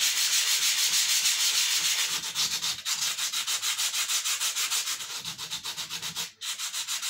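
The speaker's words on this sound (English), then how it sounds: "take some sandpaper. Again, I'm using an 80 grit here. And just lightly go over the area you glued." Sandpaper of 80 grit rubbed over glued wood joints on a model truss bridge girder, a loud, close, steady scraping in quick back-and-forth strokes with no talk.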